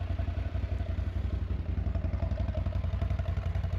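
A 2025 Can-Am Outlander 850 MAT XT ATV engine runs with a steady, rapid low-pitched thumping pulse and faint clatter, recorded up close with no speech.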